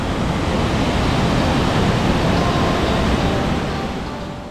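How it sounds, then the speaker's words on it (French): Loud, steady roar of the Svandalfossen waterfall in Norway, a dense continuous rush of falling water that holds constant and eases slightly at the end. "On vous avait promis des cascades et on commence directement avec celle de Svandalfossen."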